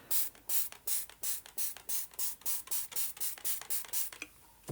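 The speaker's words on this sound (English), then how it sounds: "So then I'm just going to spritz a little bit." A spray bottle spritzes water onto a textile journal page, about fourteen quick, evenly spaced hissing pumps in a steady rhythm, close and fairly quiet, followed by a brief pause.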